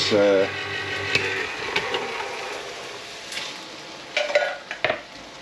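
Balti curry with chopped tomatoes being stirred in a wok, a few scattered scrapes and knocks of a utensil against the metal. A brief voice comes at the start.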